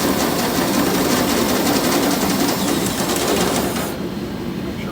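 A step drill bit bores holes for a Western salt spreader pre-wet install, a loud continuous grinding whir that runs steadily before dropping off to a quieter hum near the end.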